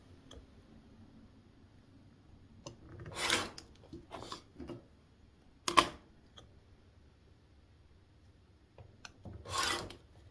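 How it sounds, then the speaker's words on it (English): Fabric strips for bias tape being cut, set to a 5/8 inch mark: a few short, quiet rasping cuts spaced apart, with faint scraping and small handling sounds between them. "So I'm going to set it at the 5/8 inch mark and cut my strips."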